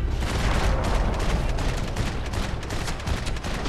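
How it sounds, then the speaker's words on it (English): Dense, continuous gunfire from the video game Max Payne 3 forms a loud, unbroken roar of overlapping shots and booms throughout, with no talking. "Keep shooting him while he's dead."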